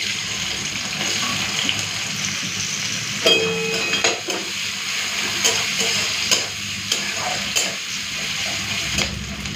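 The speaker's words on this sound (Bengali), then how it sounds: "এই তেলে এখন পেঁয়াজ কুচি দিয়ে দিচ্ছি।" Chopped onion frying in hot oil, a steady bright sizzle running throughout, punctuated by repeated scraping and clinking of a spatula stirring in the pan.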